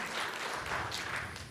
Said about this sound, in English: Wild applause for Larry